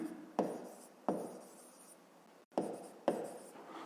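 A pen writes a fraction by hand on paper during a fifth-grade maths exercise, in four short scratchy strokes separated by brief pauses, close and quiet, with no voice.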